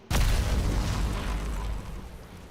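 A loud, sudden explosion in modded Valheim, one heavy boom that hits at once and then rumbles on in a long, slowly fading roar with no voices.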